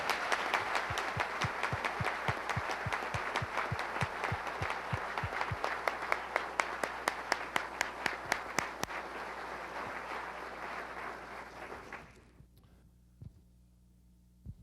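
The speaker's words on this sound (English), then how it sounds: "A round of applause for the program staff" An audience applauds the staff of the Corona reconnaissance satellite program at a 1995 honoring ceremony, a dense steady round of clapping that runs for about twelve seconds and then stops sharply, leaving faint room hum and a stray clap or two.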